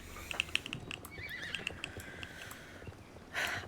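A horse in the video game Star Stable gives a short, high whinny over a scatter of quiet computer keyboard clicks and a soft clip-clop, ending in a brief burst of noise.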